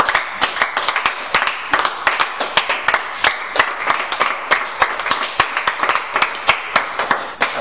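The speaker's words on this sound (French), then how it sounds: "je veux qu'on acclame le Seigneur pour son service" A church congregation claps to acclaim the Lord, many hands striking in a quick, irregular but sustained rhythm, sharp and close, with slight swells in intensity throughout.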